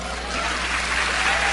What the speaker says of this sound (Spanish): ¿No le dan un aplauso?